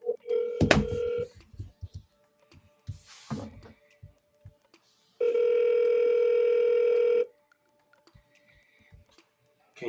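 A call placed from a Nokia burner phone: a few short beeps and clicks, then a steady telephone tone holding for about two seconds, with scattered faint handling noises around it.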